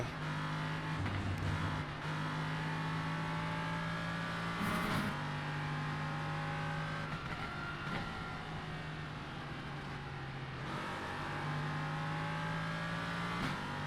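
An LMP3 prototype race car in a racing video game at Watkins Glen drones steadily at moderate volume, its engine pitch dipping and climbing through gear shifts and corners, with no talk over it.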